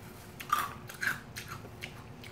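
Crispy fried Pericana wasabi chicken being bitten and chewed up close, two distinct crunches followed by softer chewing, quiet with no talking.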